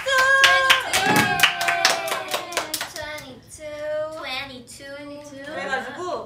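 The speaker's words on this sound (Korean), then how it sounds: "박수!" Several young women clap together for a few seconds in a bright burst of sharp claps, then the applause gives way to their chatter and laughter.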